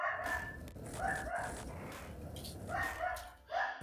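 A pet dog, a mouthy female, barks and yaps a few times in quick bursts close to the mic, mixed over background game audio and noise with some speech-like sound.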